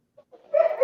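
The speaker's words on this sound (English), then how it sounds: "Somebody's got a dog barking." A dog barks nearby, starting with a couple of faint short yelps before one louder, tonal bark that trails off; no talking is heard.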